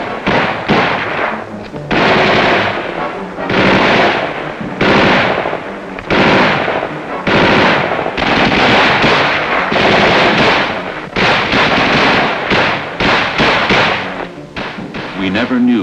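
M113 armored personnel carriers of the 9th Infantry Division lay down fire during a Viet Cong ambush, with loud, dense machine-gun bursts and heavy thuds repeating in rapid waves throughout.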